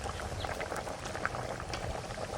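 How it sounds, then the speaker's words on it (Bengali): Fish pieces go into a simmering cumin potato curry, a close, steady bubbling and gentle liquid burble with small splashes, no voices. "এবার মাছ কটা দিয়ে দিচ্ছি।"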